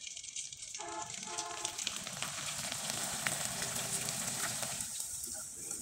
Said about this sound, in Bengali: এবার আমি কয়েকটা পিঠা আপনাদের তেলে ভেজে দেখিয়ে দেব